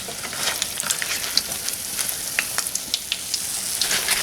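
Leftover Thanksgiving cakes frying in a pan of hot oil, a close, steady sizzle crackling with frequent sharp pops and spits, loud and continuous with no voices.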